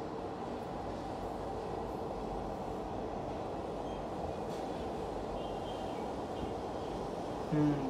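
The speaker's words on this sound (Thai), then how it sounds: "วันนี้นะครับรถไฟแล้วก็มาเทสรันวิ่งให้ชมด้วยนะครับ" An electric train on Bangladesh's first line rumbles steadily past at close range during a test run, a continuous low roar with faint rail noise and a brief squeal near the end.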